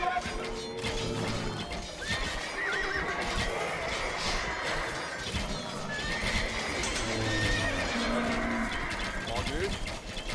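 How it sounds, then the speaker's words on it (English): Horses neighing and hooves clopping in the strategy game Age of Empires II, a busy game soundscape with a whinny, steady hoofbeats and livestock lowing over continuous battle and ambient noise, loud and dense throughout. "Kutluk fell from her horse."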